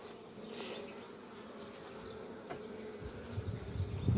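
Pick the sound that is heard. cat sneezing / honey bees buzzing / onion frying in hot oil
honey bees buzzing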